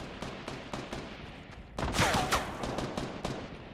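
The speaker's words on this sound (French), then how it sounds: "Il nous tire dessus, il me tire dessus, à la maison." Gunfire in the battle royale video game Fortnite, a burst of rapid shots that loudens midway into a dense volley, with repeated cracks continuing over a steady game background.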